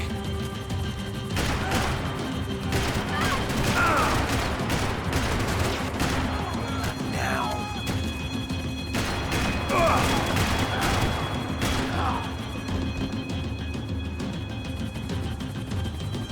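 Gunfire in the video game Max Payne 3, with repeated bursts and single shots scattered through a noisy action scene, some impacts and crashes, and game voices shouting between the shots.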